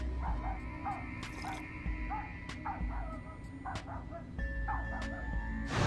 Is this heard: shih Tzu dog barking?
yes